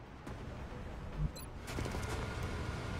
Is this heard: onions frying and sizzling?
no